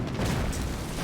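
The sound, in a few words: mortar shell explosion in a video game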